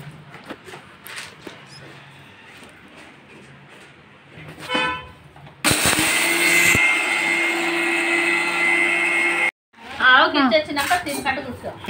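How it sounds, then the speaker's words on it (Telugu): A mixer grinder grinding lentils whirs loudly and steadily for about four seconds, then cuts off abruptly; people talk before and after it runs. "ఫస్ట్ అయితే పప్పులు అయితే మిక్సీకి వేసుకోవాలండి మెత్తగా"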